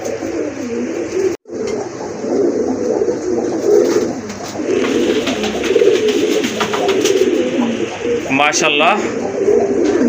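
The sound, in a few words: pigeons cooing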